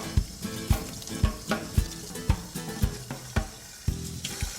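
Tap water runs over a glass bottle, rinsing etching cream off it, heard as a string of sharp splashing bursts in an uneven rhythm with a hiss of water behind them, close and alone.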